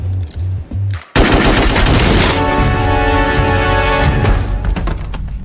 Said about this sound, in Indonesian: tiba-tiba, tanpa angin dan hujan, Bobby menembak Nick